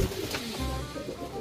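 Racing pigeons coo near a loft, a low throaty burble that rises and trails off once, close by and moderately quiet, with faint background noise and no speech.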